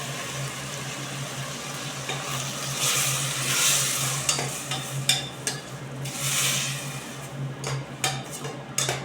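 A ground spice paste sizzles with vegetables in a pan, a continuous close fry broken by surges of crackle and scraping stirs.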